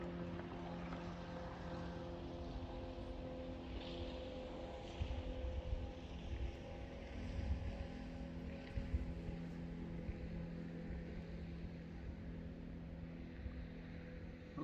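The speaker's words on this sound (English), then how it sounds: "There's some boat action on the river here behind me." A low, steady drone of boat motors hums across a river in the distance, with a faint wash of wind and no voices.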